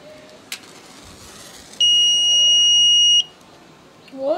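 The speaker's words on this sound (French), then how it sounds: "c'est une sirène, hein, en termes techniques" A single loud, piercing electronic flame detector siren tone sounds for about a second and a half, then stops abruptly against quiet wind.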